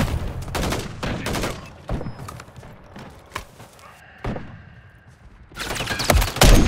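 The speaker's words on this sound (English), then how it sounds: "Taking effective fire." Gunfire in the Call of Duty: Modern Warfare 3 Invasion mission: bursts of loud, close shots in rapid runs, a quieter lull in the middle, then heavy firing resumes toward the end.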